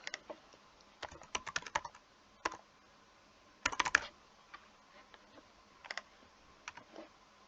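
A password is typed on a computer keyboard in short bursts of close, quiet key clicks separated by pauses, with a denser flurry of keystrokes near the middle.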